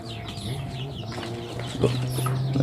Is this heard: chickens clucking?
yes